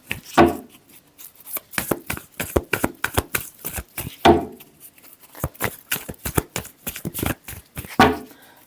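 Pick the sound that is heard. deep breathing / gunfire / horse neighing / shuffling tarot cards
shuffling tarot cards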